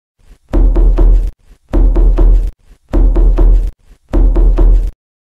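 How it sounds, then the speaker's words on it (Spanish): Knocking on a door in a cartoon-style story: four loud, heavy bursts of rapid knocks spaced evenly, each a quick cluster of thuds, close and with no talk. "cuando llegamos tocamos la puerta"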